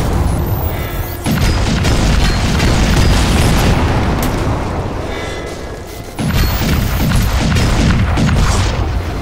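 Rockets explode in Crysis 2 Remastered with loud, heavy booms, one sustained rumbling blast that slowly fades before a second powerful explosion erupts, both close and overwhelming.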